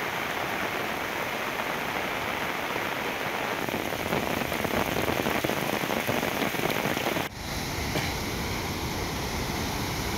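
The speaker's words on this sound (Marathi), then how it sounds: "धरण क्षेत्रात दमदार पाऊस झालाय" Heavy monsoon rain pours down over a dam area near Bhimashankar in a dense, unbroken hiss, loud and steady throughout, with only a momentary dip near the end.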